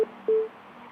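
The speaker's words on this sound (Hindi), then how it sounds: "Phone disconnect." Phone line disconnection tone during a live TV call-in: two short steady beeps, the second longer, alone at moderate level with a faint hum beneath.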